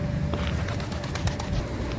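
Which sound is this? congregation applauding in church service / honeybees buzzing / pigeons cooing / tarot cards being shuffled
pigeons cooing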